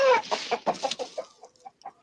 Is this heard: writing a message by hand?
no